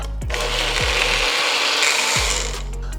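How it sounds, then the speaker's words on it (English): A blender whirs loudly and steadily for a few seconds, mixing a protein shake of one scoop of protein powder and a little water, with brief shifts in motor pitch and no talking. "And then back to the blender."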